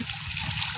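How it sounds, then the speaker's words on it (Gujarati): Water is poured into a hanging bird water container at a school in summer, giving a steady, close splashing and trickling that runs throughout. "હવે પાણી નાખી દીધું"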